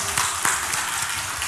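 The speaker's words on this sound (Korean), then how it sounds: "야, 박수 한번 합시다." Church congregation clapping during a Sunday service, a brief dense burst of many hands applauding at once, steady and fairly loud for the whole moment.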